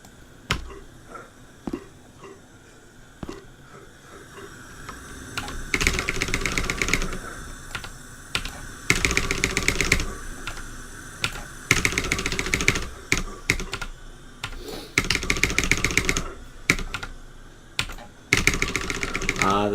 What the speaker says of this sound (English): Ah, the sound of the majestic mechanical keyboard.